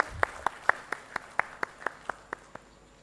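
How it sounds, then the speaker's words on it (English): At a textile expo launch event in Bhubaneswar, a single person claps about a dozen times in an even, fairly quick rhythm, each sharp clap distinct and nearby, slowing slightly and fading toward the end. "Let's have a big round of applause, ladies and gentlemen."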